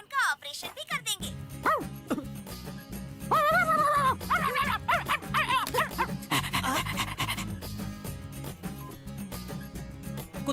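Stray dogs pant heavily at a municipal dog-catching department, the rapid breathing mixed with yips and whimpers while people talk over them and music plays.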